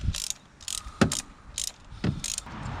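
Ratchet clicks while tightening an ignition coil bolt on a Kia Forte during a coil swap, heard as several short bursts of close, crisp ratcheting spaced about half a second apart, with a couple of lower knocks.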